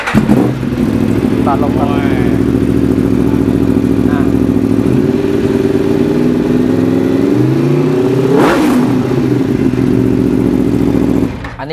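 A motorcycle engine starts and idles steadily, then revs up sharply around the middle with a rising whine before settling back. People talk throughout over the continuous engine noise.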